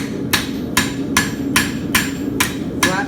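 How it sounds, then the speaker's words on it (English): Steel horseshoe hammered flat on an anvil by a farrier, seven sharp ringing blows at an even, unhurried pace, close and clear with no talk. "And then I will take it and flatten the shoe."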